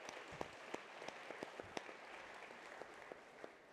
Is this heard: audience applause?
yes